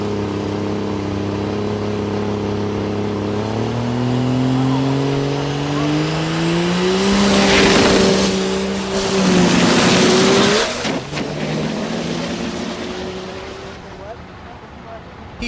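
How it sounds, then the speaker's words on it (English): A 1945 Chevy truck with a Cummins diesel engine launches down a drag strip, its engine roaring and climbing steadily in pitch before dropping off as it lifts, with a commentator talking over it. "Here's Robert Berry, the 45 Chevy, with the Cummins."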